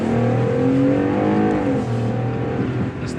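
A 2020 Jeep Gladiator pickup pulls away hard, its engine note rising in steady revving harmonics as it accelerates, loud and close with no talk over it.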